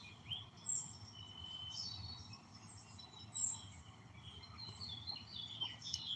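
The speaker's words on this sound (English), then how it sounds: "Hang out with the birds out here if you guys can hear them." Faint, high bird chirps and tweets sound intermittently over a low outdoor rumble, with insects buzzing softly in the background and no talking.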